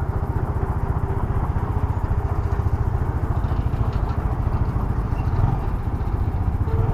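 A Yamaha PG-1 motorcycle ridden on a road, its engine droning with a steady, rapid pulsing throb close by, even in loudness throughout, with no voices.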